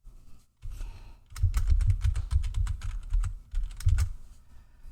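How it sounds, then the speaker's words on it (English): Computer keyboard typing, keys clattering in quick irregular bursts close to the microphone, loud and dry with brief pauses between runs of keystrokes. "you will be hearing my keyboards clattering away there"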